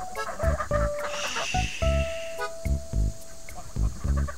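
Noisy ducks kept in a duck house quack and call in steady repeated bursts close by, loud and busy, with several birds overlapping in a rhythmic chorus.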